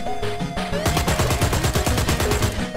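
Rapid automatic gunfire from a first-person video game shooter, loud and rhythmic with dense repeated shots rattling continuously over a synthetic background.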